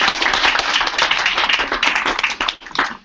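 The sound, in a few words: audience applause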